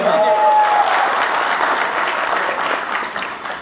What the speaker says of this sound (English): Round of applause for Mayur.